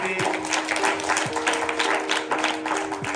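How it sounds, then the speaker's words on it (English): A chapel congregation claps together in a quick, irregular burst of many hands, fairly loud and close, while a voice speaks over the clapping. "why don't you clap your hands really,"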